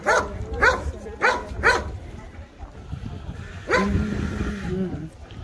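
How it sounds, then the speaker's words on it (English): Outdoors in Acre, overlooking the bay toward Haifa and the Mediterranean, a dog gives four sharp, evenly spaced barks in quick succession, followed by a longer, rougher stretch of noise at moderate level. "And you can hear him barking."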